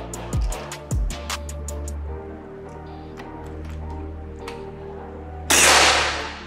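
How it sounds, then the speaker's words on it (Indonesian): Clicking and handling noises over a low hum lead up to one sudden, loud Ghost Warrior V2 air rifle shot close by. "Lanjut tembakan yang ketiga."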